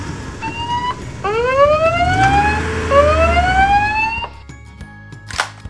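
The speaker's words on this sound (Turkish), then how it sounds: "Bu bir polis arabası." A toy police car siren wails with rising electronic tones, a short beep first, then a longer sweeping pattern that cuts off near the end.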